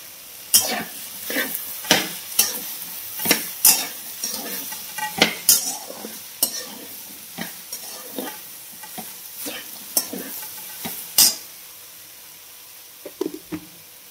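Okra with a coarse ground peanut mixture stirred in a pan, a spoon scraping the metal in repeated clinks and sizzling strokes, close up, with no talk.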